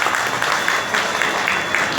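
An audience claps steadily at a village temple festival gathering, a dense continuous patter of many hands, loud and fairly close, with faint voices underneath.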